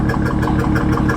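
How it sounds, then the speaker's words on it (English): A 2020 Corvette C8 idles roughly up close, a steady engine drone with an uneven, shaky pulse repeating several times a second, with no talking. "This thing is idling like crap right now"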